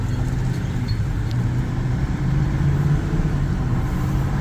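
A broken-in Bison truck towing a trailer at highway speed, a steady low engine drone and road rumble holding constant throughout with no voices.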